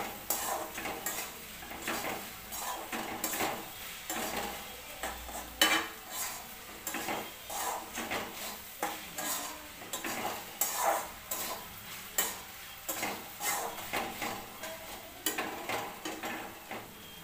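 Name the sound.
stir-frying salted okra (bhindi) in a pan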